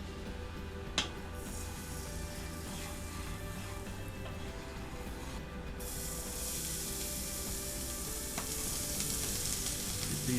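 Onions fry on a flat-top griddle for shrimp and grits, a steady close sizzle running throughout, growing slightly brighter partway through, with a couple of faint clicks.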